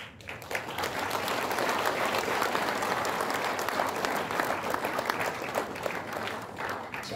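Audience applause at a Korean history lecture event, a dense, steady wash of clapping from a large crowd lasting several seconds without a break.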